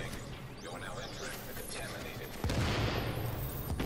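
Explosive-bullet gunfire in a video game manhunt match, a sudden loud burst of rapid blasts erupting about two-thirds through, with voices talking over the action.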